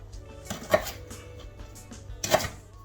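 A kitchen knife trims lemongrass stalks for a beef Massaman curry, giving two crisp, separate chops with a quiet pause between them.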